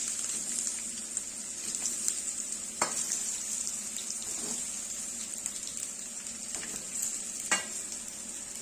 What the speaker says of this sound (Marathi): मस्त असं तेलावर हे परतून घ्यायचं